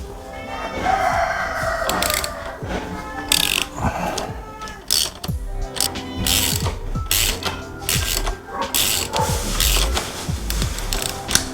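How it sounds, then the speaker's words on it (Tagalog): A hand ratchet loosens a frame slider bolt on a Kawasaki Z900 motorcycle with rapid, repeated metallic clicking in quick bursts, close and loud. A rooster crows faintly in the background. "pwede niyo naman nang gamitin yung ratchet para mabilis"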